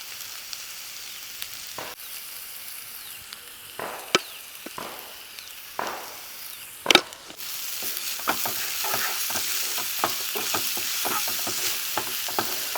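Onions tossed with turmeric powder fry in a pan, a steady close sizzle under repeated scraping stirs with a spoon, the frying growing denser and louder in the second half.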